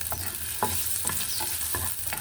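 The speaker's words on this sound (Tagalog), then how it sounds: "Fry ang sibuyas." Onions frying and being stirred in a pan for a potato and hotdog fry: a steady sizzle underneath, broken by a few sharp scraping stirs at roughly half-second intervals, close and clear with no voices.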